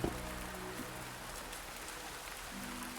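Steady rain falls on surfaces in the video game A Merchant's Promise, a continuous even patter throughout with a few faint tonal game sounds beneath it.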